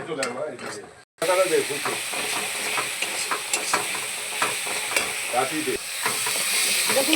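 Spices sauté with a steady loud sizzle for a small rohu fish curry, broken by quick stirring scrapes and clinks of a spoon against the pan after a short pause near the start.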